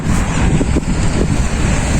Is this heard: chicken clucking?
no